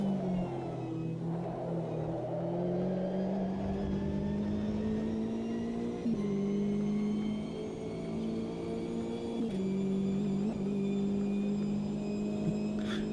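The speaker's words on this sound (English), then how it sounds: "LMDH coming past." An LMDH prototype race car in a racing sim game drives past, its loud, steady engine whine shifting pitch with each gear change over a constant rumble, with no talk.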